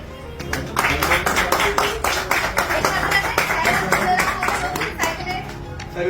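A crowd claps for a prize winner receiving a brand-new bicycle at a mobile shop event, with dense rhythmic clapping close by and some voices underneath.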